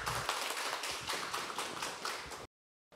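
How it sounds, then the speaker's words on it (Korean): Audience applause at a local autonomy forum in Gwangmyeong, a dense burst of clapping lasting about two and a half seconds before cutting off sharply to silence. "박수 부탁드립니다."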